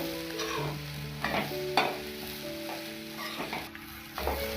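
Green gram stir-fry, Kerala-style cherupayar mezhukkupuratti, being stirred in a pan: soft sizzling under several distinct scraping strokes of a spoon against the pan, close and fairly quiet, with no voices.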